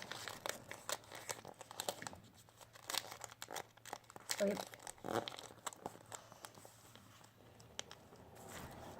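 Sheet of paper being folded and creased into an origami piano, with soft crinkles and rustles running throughout under a person's steady talk.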